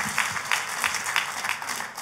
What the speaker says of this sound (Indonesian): Ayo kita kasih tepuk tangan yang meriah buat Tuhan kita.